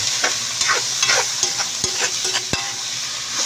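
Meat for bicol express fries in a pan, a loud, steady sizzle broken by scraping stirs and a few sharp knocks of the utensil against the pan.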